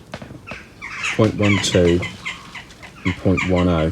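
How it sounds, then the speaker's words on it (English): Chickens or similar fowl squawk and cluck loudly near a garage while someone talks nearby during an engine teardown of a Vauxhall Corsa D 1.0 three-cylinder. "you have to excuse the birds making a bloody noise"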